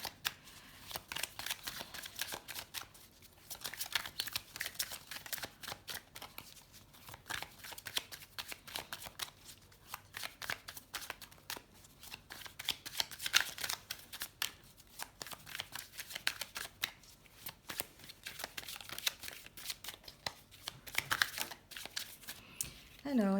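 Tarot cards are shuffled and drawn in a crisp, continuous run of riffling and flicking that lasts throughout, fairly close and moderately loud, with soft card slaps and no talking over it.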